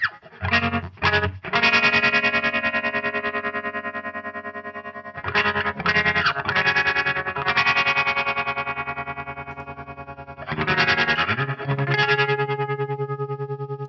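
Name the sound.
electric guitar through a reverb and delay effects pedal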